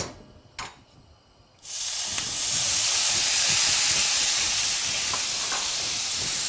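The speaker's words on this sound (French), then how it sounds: "Donc là, on va déglacer avec un petit fond de vin blanc." A hot pan deglazed with a splash of white wine after chicken escalopes are removed, bursting into a loud, sustained steamy hiss and sizzle that stays strong and steady after a few quiet clinks.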